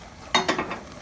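A spoon stirs tomato paste into a pot of beef stroganoff that is coming to a boil: a few quick scraping, sloshing strokes over a soft simmering hiss, close by and brief.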